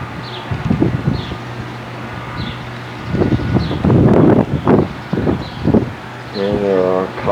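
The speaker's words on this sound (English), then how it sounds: "It is windy and cold right now." Cold wind gusts across a mountainside alpine resort near Mount Cook, a steady low rush and buffeting with stronger blasts midway, while voices murmur over it.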